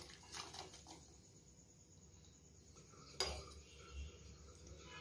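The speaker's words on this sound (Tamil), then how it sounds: "வெள்ளத்தை நல்லா கரையிற வரைக்கும் கலக்கணும்." A spoon stirs jaggery into water in a cooking pan, with soft scraping and one sharp metallic clink against the pan partway through, then quieter stirring; no voices.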